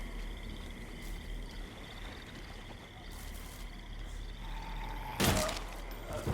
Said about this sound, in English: There's a gunshot.